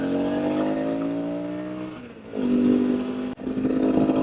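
A Suzuki DL650 motorcycle engine revs and drops, then climbs again with a steady, loud mechanical drone close by, briefly dipping before surging back up.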